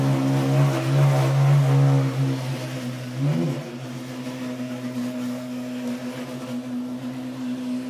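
A 1966 Porsche 911 2.0 outlaw coupe, prepared by Magnus Walker, rumbles nearby with a steady engine drone that swells around the start and dips briefly in the middle before settling at an even idle, with no voices.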